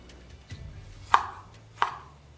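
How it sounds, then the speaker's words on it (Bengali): A knife cuts a tomato into quarters on a board, giving two distinct sharp chops close by in a quiet room. "ততক্ষণ আমি এখানে টমেটোটা কেটে নেব। টমেটোটাকে কিছুই নয়, জাস্ট এইভাবে 1/4 করে কেটে নিতে হবে।"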